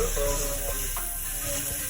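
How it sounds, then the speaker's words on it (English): Sticky teriyaki chicken sizzling in a hot pan, a soft steady hiss of frying with faint crackles, fairly quiet and close, with a brief murmur of a voice in the background. "Check the sizzle out."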